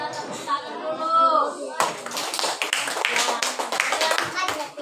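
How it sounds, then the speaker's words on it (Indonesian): A group claps hands together after a spoken introduction, a brisk, close burst of clapping that starts partway through and keeps going while voices continue underneath. "Kita tepuk tangan dulu."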